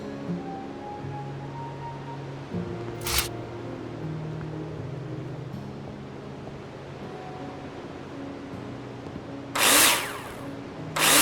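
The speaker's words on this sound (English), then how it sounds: "Take your drill out and screw them in." Power drill driving screws into plasterboard in the Builder Simulator video game, two short bursts over a steady background hum, the second one louder and longer.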